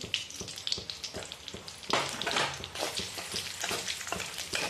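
Gum resin (dink) fries in hot ghee for Gokulashtami poha laddoos, giving a steady close crackling sizzle with brisk popping bursts throughout, no voices.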